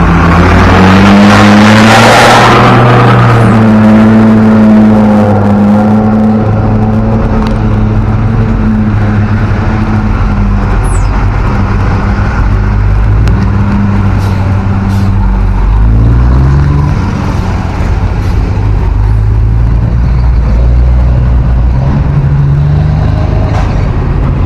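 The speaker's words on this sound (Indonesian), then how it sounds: "cukup banyak sekali truk yang membawa tanah timbunan untuk dibawa ke lokasi sekitar STA 15 plus 800" Heavy trucks hauling fill soil for a toll road build rumble past at close range, their engines droning loud and continuous with shifting, rising and falling tones and a roar of passing at the start.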